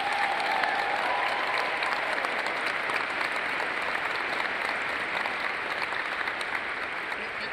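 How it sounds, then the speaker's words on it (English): Sustained, steady applause from an audience at a command ceremony at Travis Air Force Base, dense clapping filling the whole stretch at an even level, with faint murmuring beneath. "Let's give Don a round of applause."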